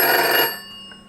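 An internal desk telephone dialed from another extension gives a single short, loud ring that cuts off abruptly, followed by quiet.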